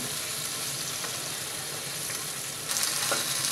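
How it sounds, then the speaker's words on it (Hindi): Okra, salted and lightly fried in a pan, making a dense, continuous sizzle heard up close that swells slightly near the end, with no talking over it. "तो अच्छे से मिला लेंगे इसको थोड़ा ही फ्राई करेंगे ताकि इसका चिपचिपापन ख़त्म हो जाए"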